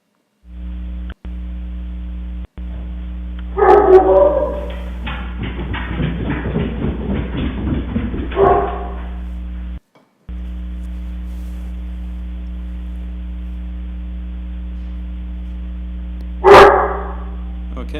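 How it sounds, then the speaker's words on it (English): A dog barking a few times at a distance, picked up by an SNH 6410BN wifi security camera, heard as brief bursts over a constant loud electrical hum, with a faint murmuring stretch between barks. "that picked up one of my dogs barking at whatever"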